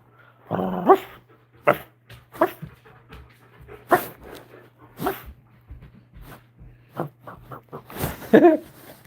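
Dogs bark and growl in short, uneven bursts at close range, with a steady low hum running underneath throughout.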